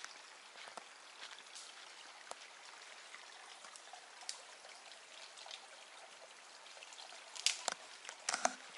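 A mountain river flowing through a forest at night gives a soft, steady trickling and babbling wash, fairly distant and faint, with a few closer splashes near the end.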